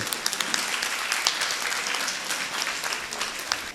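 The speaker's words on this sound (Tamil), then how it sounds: "கரகோஷம் பத்தாது தம்பிக்கு." Steady, moderately distant applause from a festival crowd, a continuous patter of many hands with a few sharper individual claps throughout.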